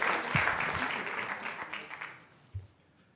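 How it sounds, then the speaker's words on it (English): An audience claps at a city council meeting, a short burst of applause that thins out and fades over a few seconds, with a bit of background murmur. "You don't need to be clapping."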